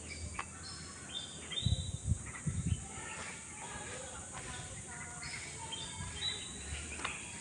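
Scattered bird chirps and short calls over a quiet outdoor background, with a few low thumps near the start.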